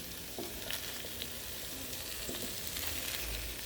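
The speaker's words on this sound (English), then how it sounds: "Stir fry green beans, guys, with tofu." Green beans and tofu stir-fry in a pan with a continuous soft sizzle and a few light stirring scrapes, close but fairly quiet, with no speech.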